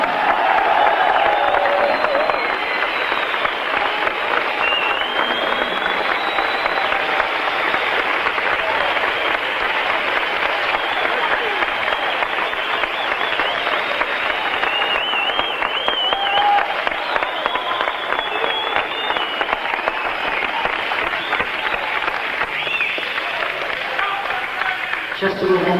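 A concert audience at a 1978 show in the Ishallen, Malmö, applauds and cheers, a dense continuous roar of clapping that stays loud and unbroken throughout.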